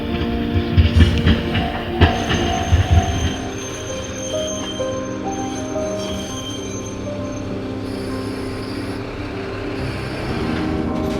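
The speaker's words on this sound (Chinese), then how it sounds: "那列橙黄色的火车刺破深蓝色的暮霭时" An orange-yellow train passes at dusk, with loud, close wheel squeal and rumbling for the first few seconds before it settles into a steady, fainter rolling drone.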